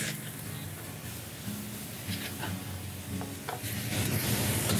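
Kai lan is tossed into a hot wok with oil for a stir-fry with Chinese sausage, producing a soft sizzle and scraping spatula strokes that grow louder toward the end.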